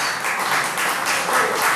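Congregation applauding together in a Christian church service, a steady dense wash of many hands clapping that holds evenly throughout without pause.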